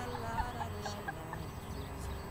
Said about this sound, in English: Can you just listen to the birds for a second?